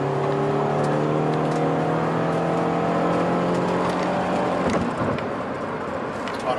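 Subaru BRZ fitted with a Rev Works unequal length header revs up close, its rumbling engine note climbing steadily in pitch for several seconds before dropping off abruptly into a lower, rougher burble.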